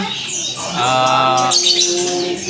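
Lovebirds of the ngekek type give sharp chirps and then a drawn-out, harmonic squawking call, loud and close, with the cries running back to back across two and a half seconds.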